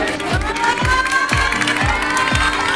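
Students applaud and cheer loudly for their school football team, a lively crowd of clapping and shouting with rhythmic thumps, like drum beats, recurring about every half second.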